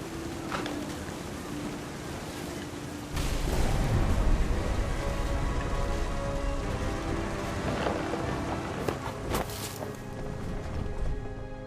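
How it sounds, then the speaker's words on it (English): Storm in the game What Remains of Edith Finch: steady rain hissing on surfaces, then a deep rumble of thunder swells in, rolling on heavily under the downpour with a few sharper cracks near the end, loud and close. "The thunder sounded much too close and full of angry power."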